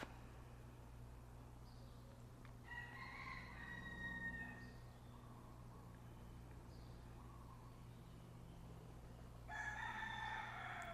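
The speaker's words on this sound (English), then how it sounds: "You can probably hear the chickens, the roosters outside." Roosters crow faintly in the distance, two drawn-out calls separated by several seconds, over a low steady background hum.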